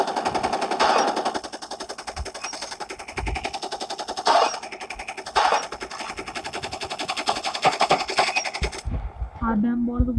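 AKM rifle fire in Call of Duty, with rapid automatic bursts rattling on and off over ten seconds, while a person talks over parts of the shooting.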